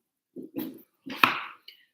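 A dog gives a few short, close barks or yips indoors, in two quick bursts separated by a pause, with a small squeak at the end.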